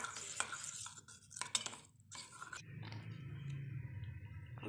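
A homemade vitamin C night cream mixture is slowly stirred in a double boiler, giving soft scraping and light clinks of a utensil against the bowl over a low, steady background hum; quiet and close.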